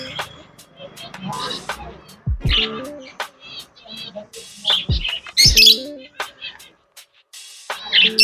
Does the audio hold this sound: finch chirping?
yes